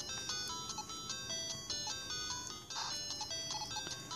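Game Genie background music on a Game Boy Color: faint, looping electronic chiptune beeps in a bouncy melody, quiet and steady, with no talk.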